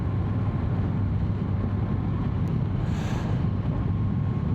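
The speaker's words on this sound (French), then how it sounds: "Turbulence du vent, hein, c'est que le vent qui tape dans le casque" Wind turbulence buffets a Shoei GT3 motorcycle helmet while riding, a steady loud low rumbling roar that continues unbroken throughout.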